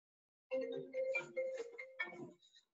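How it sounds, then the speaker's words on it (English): A phone rings during a physics lecture, sounding as a short melodic ringtone of tonal bursts that rises quickly and trails off after about two seconds, heard on its own without speech. "Getting phone calls."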